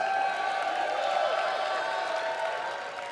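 A large crowd at an Apex Legends esports playoff event cheers and claps steadily for several seconds, a dense roar of voices and applause that fades slightly toward the end.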